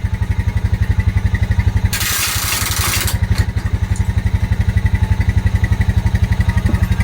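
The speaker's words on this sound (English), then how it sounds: "I think he needs to change the oil on his winch. It's knocking." A winch with a knocking engine hauls a massive, crooked black cherry log, its close, rhythmic thumping running steadily throughout, briefly overlaid by a second of loud hiss.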